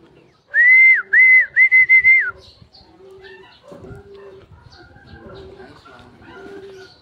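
Racing pigeons arrive at a loft after a hard training race in Paete, Laguna, with a burst of loud, close whistling followed by soft background chatter and cooing-like sounds as someone talks quietly.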